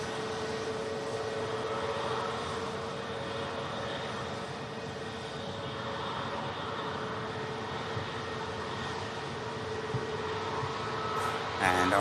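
A KLM airliner bound for Amsterdam Schiphol powers along the runway at Manchester Airport, producing a sustained engine drone with steady tonal hums and a slight lift in loudness near the end.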